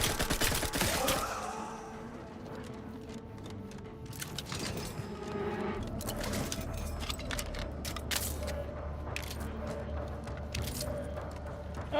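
Gunfire in the video game The Outer Worlds 2, rapid bursts of shots and clattering impacts against a continuous low rumble, dense at first and then sparser.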